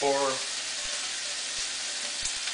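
Bacon sizzles and crackles in a pot for hunter's stew, a steady bright hiss of frying fat that continues evenly after a brief voice at the start.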